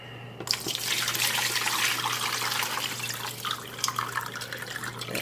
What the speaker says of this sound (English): pour in our brine